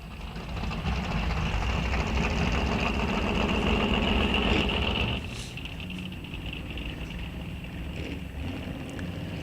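Drag race cars sit at the start line of a Sunoco Race Fuels ET Series event, their engines holding a loud, steady roar that drops abruptly to a lower drone partway through, with no voices.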